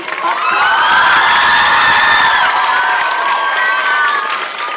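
At a school award ceremony for a student talent show, a large young crowd bursts into loud, sustained clapping mixed with cheers, whoops and high shouts as a winner is called to the stage.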